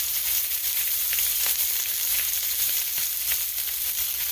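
A wild-caught tuna steak sears in a hot pan, giving a steady, close, bright sizzle that hisses evenly throughout with no voices.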